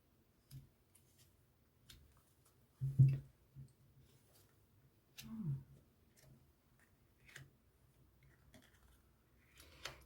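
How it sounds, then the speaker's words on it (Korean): Tarot cards being drawn and laid down during a reading: a few soft, scattered taps and slides of card stock, spaced irregularly with one fuller shuffle-like rustle, very quiet and close against a near-silent room, no talking. "카드 뽑아보도록 할게요."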